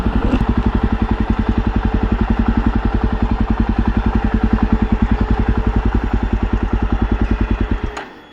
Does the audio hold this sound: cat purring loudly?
no